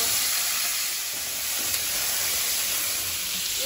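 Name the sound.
kohlrabi and potato frying in oil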